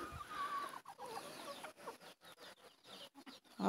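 A chicken clucking and squawking repeatedly while a gander chases it in a farmyard, the agitated calls broken by short gaps.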